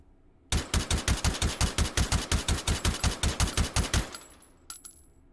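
Suppressed SKS carbine in the VR shooter H3VR, firing a rapid string of about twenty evenly spaced, punchy shots, close and loud, stopping abruptly with a few metallic clicks and rattles afterward.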